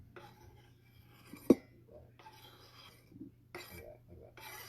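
Salad tossed in a bowl gives rustling, scraping bursts, with one sharp clink of a utensil against the bowl early on, close and fairly quiet.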